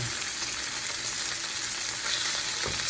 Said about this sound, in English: I'm going to put my oxtails in, I'm going to let that get hot as well